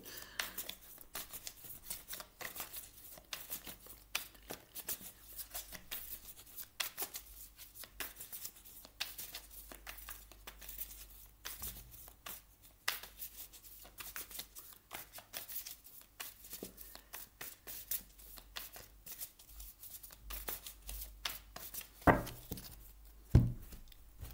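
Tarot cards are shuffled by hand for a reading, with quiet, rapid riffling and flicking that runs steadily throughout at close range, plus a few louder taps near the end and no talk.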